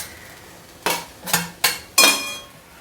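Telpath forest greens stirred with softened onion in a pan: four distinct, loud scraping strokes of a metal spoon against the pan, evenly spaced, over a faint sizzle, with no talking.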